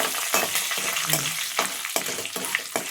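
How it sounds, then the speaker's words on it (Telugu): Curry leaves spit and crackle in a hot oil tempering (talimpu) for a gongura meal maker pickle cooked at home, a close frying hiss broken by repeated sharp bursts of spattering. "ఇప్పుడైతే తాలింపు వేగింది, కలమాకు వేసిన"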